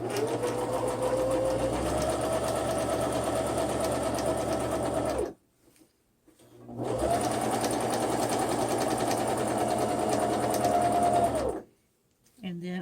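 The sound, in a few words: sewing machine stitching fabric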